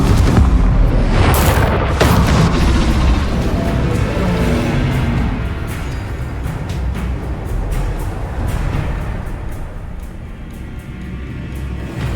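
Confringo fire spell blasts in Hogwarts Legacy combat, a loud booming explosion with crackling bursts that rumble on through a dense, continuous battle din.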